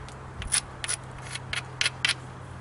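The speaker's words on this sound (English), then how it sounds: "I'm going to grind this side, just to try and isolate it a little" Flint is ground along a platform edge during knapping, a quiet scratchy rasping in several short separate strokes, close by with pauses between each pass.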